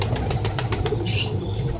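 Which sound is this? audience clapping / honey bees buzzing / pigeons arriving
pigeons arriving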